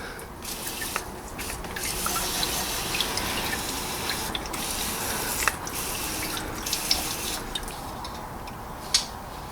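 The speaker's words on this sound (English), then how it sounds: "using some clutch and brake cleaning fluid here, clean all this oil that is dripped everywhere" Clutch and brake cleaner sprayed onto the oily engine of a 2014 Renault Clio 1.2 16v, a close continuous hiss with bursts that start and stop, plus scattered small drips and ticks, with no talk.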